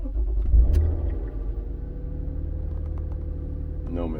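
A 2008 Toyota RAV4 with a past misfire on cylinders 2 and 4 runs steadily on a road test, a continuous low engine and road rumble with a brief swell near the start, all at an even level throughout.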